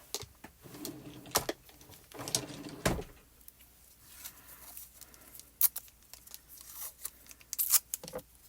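Tape pulled off a roll and torn in a crafting session, several short ripping and tearing bursts with small handling noises between them, close and fairly quiet.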